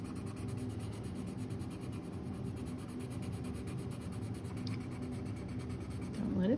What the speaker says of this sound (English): So I'll take my blending pencil.